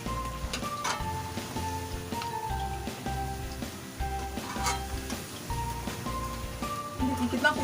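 Chana dal laddu peethi fry in oil over gentle heat as they are stirred, a steady soft sizzle and bubbling close by, with light utensil knocks throughout and no speech.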